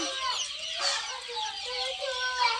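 Young native country chicken chicks, about seventeen days old, chirp and peep in a village farm setting, with several quick overlapping high calls heard up close.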